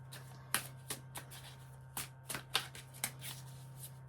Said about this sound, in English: shuffle the Botanical Dreams Oracle.